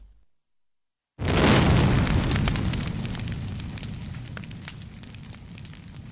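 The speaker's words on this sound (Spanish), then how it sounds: "En Melrose Place lo que pedían era una explosión de la que pareciese que nadie podría salir vivo" A large special-effects explosion staged for the TV drama Melrose Place: after a second of silence, a sudden loud boom bursts out and rolls into a long, roaring, crackling blast that slowly decays without fading out.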